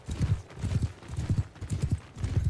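Horse hooves gallop in Mount & Blade II: Bannerlord, a steady, loud rhythmic clip-clop of repeated hoofbeat clusters throughout, heard alone without talk.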